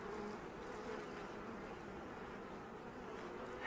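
Honey bees buzz steadily at a hive with a Hanneman cage being added, a dense continuous drone heard close and alone without talk.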